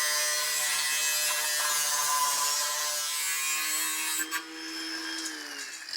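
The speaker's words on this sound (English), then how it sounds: "I'm just basically going to run a grinder around it and knock this outer lip off" An angle grinder cuts the outer lip off a car's brake dust shield during an R32 brake conversion, giving a steady, loud, high-pitched whine with gritty metal rasp that holds for several seconds, then dips and shifts pitch near the end.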